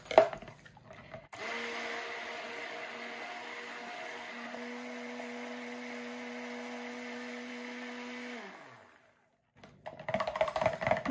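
A stick blender purees banana cold process soap batter with oil, whirring steadily for several seconds with a constant droning pitch, then switches off and stops, with clattering handling noise before and after.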